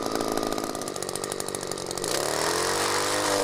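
An ECHO PPT-280 telescoping pole saw runs loud and close, its chain rattling through a branch collar on a tree, then the engine note shifts to a smoother steady revving as the cut finishes, no talk.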